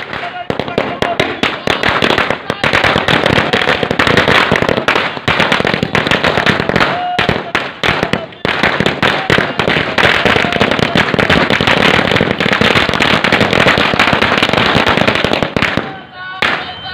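Farmers and party workers set off firecrackers in a jubilant celebration at a bus stand in a small town, with dense, loud, rapid-fire bangs and crackles running almost continuously and crowd voices mixed in.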